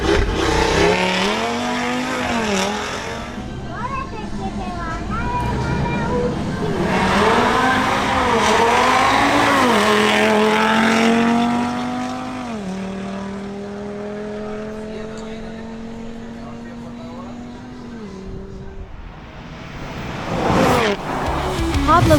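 Audi RS3 accelerating hard on a timed drag run, its engine revving up through rising gear pulls with shifts, loud and close, mixed with crowd noise and commentary voices.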